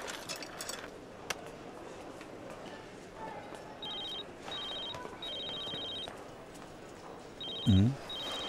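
A telephone rings in short repeated bursts of electronic trills over faint room ambience, with a brief low thump near the end.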